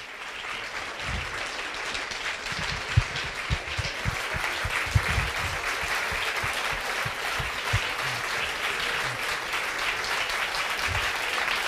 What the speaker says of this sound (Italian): Applausi meritatissimi.